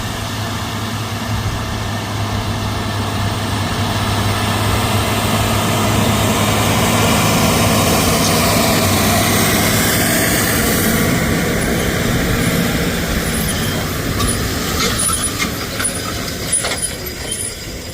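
A heavy diesel engine drones steadily under load for the whole stretch, loud and close, with a low constant rumble and faint clanking near the end.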